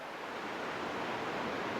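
A mill stream in Austria that once powered a paddle-wheel grain mill, heard as a steady broadband rush of flowing water, continuous and fairly loud, with no voices over it.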